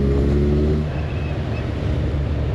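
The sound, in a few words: Kawasaki Z1000 SX motorcycle engine cruising in sixth gear at 47 km/h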